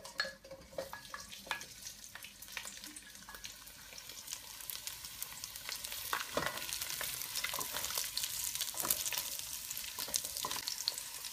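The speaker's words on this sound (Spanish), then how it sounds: "Pon las piezas de chorizos en la olla." Chorizo pieces frying in olive oil in a pot, a continuous crackling sizzle with scattered pops and stirring scrapes, growing steadily louder, close and without talk.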